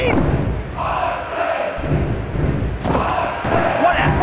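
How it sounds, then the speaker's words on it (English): A packed wrestling arena crowd roars and cheers during a WWE Attitude-era tag match, a loud, dense wall of voices swelling and surging without pause, with occasional thuds beneath. "This crowd is pumped up! They are jacked!"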